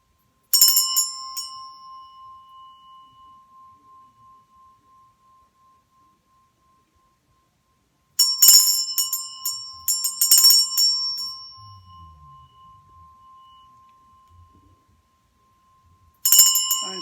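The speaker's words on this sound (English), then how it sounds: "I'm right now ringing this bell for everyone, for blessings everywhere in your life" A small bell is struck three times in a quiet room, each ring bright and near with a long, steady tone that fades slowly over several seconds before the next strike.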